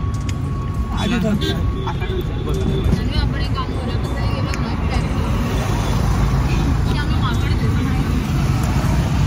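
Auto rickshaw carrying six passengers rides through city traffic, a continuous loud engine and road rumble with horns and passing vehicles, voices chattering throughout.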